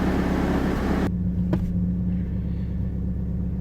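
A Pontiac Fiero engine idles steadily after starting, a low, even rumble with a constant hum that stays close and loud throughout, after a brief burst of broadband noise at the start.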